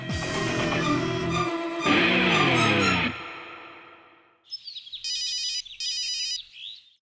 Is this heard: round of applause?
no